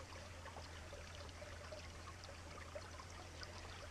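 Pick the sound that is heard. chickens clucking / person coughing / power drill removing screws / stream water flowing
stream water flowing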